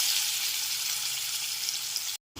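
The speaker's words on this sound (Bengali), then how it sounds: "ওই একই তেলের মধ্যে লবণ ও হলুদ মাখানো মাছগুলোকে ভেজে দেবো" Prawns coated in salt and turmeric sizzle and fry in hot oil, a steady bright crackling hiss that continues evenly before cutting out abruptly near the end.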